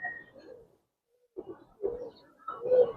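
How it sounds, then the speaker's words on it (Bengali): Pigeons of a high-flyer breed coo softly in short, separated bursts, a few low throaty calls near and quiet with silent gaps between them. "এটা হাই ফ্লায়ার কবুতর, অনেক উড়ে এগুলা।"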